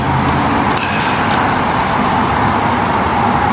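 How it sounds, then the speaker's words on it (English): Cars go by outdoors, a steady wash of road traffic noise with a few faint high clicks, moderately distant and unbroken, no voices. "You can hear cars going by."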